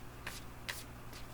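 A deck of heavy-cardstock tarot cards is shuffled up close, giving soft papery riffles in three short bursts over a low steady background hum.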